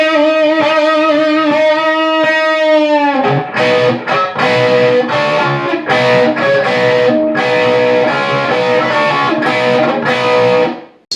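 Distorted electric guitar plays the first measure of the solo from a song at medium tempo, opening with a long sustained bent note and then a fast run of loud, continuous picked notes, close and alone.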